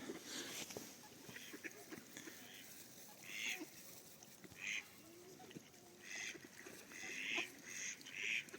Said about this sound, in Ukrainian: Лебедя. З качками.